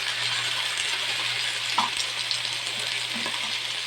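Meat added to a pan of browned garlic and onion sizzles steadily with a soft, close frying hiss, broken by a few light clinks and scrapes of stirring.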